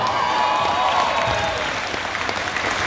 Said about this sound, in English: you deserve that round of applause